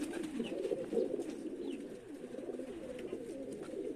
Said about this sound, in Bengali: নর কবুতর তো একটু পাজি, ডাকাডাকিতে ব্যস্ত থাকে